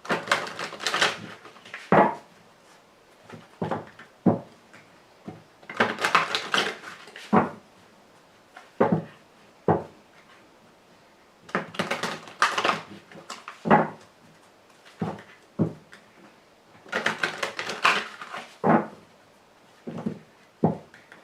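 A deck of Lenormand cards shuffled and cut by hand, grouped bursts of papery riffling and sharp taps separated by short silences, close and clear with no voices.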